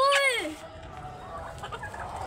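A hen gives one loud, close squawking cluck, then only faint background noise and stirring follow.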